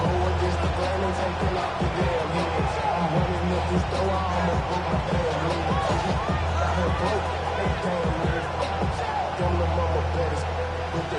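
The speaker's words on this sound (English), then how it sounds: "The crowd cranking it up another notch before third and long." An American football stadium crowd roars louder before a third-and-long play, a dense, steady din that never drops, with a commentator talking over it throughout.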